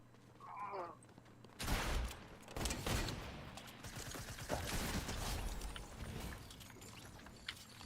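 Video game gunfire with a hunting rifle used like a shotgun: loud, sharp shots in quick succession with mechanical clatter, after a faint voice at the start, dense and close.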